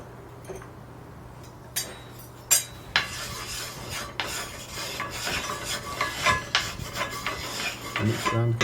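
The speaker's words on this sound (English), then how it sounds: "And mix around to get the bottom coated." Olive oil is spread around a warm cast iron skillet with a utensil, giving scraping and rubbing sounds with scattered metallic clicks that grow busier and louder, close by with no talk.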